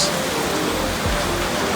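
Heavy rain in the mountains at Buda, a dense, even hiss of downpour filling the whole short moment at a steady, fairly loud level.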